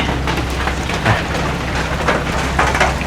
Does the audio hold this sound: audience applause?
no